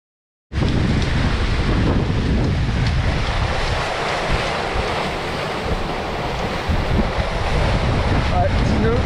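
Strong wind and breaking waves rush steadily and loudly past a Mini-Transat racing yacht sailing solo at about nine to ten knots under spinnaker in the Roma–Barcelona race, a continuous roar with no pauses.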